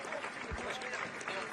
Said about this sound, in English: Give Ed Smith a tremendous round of applause.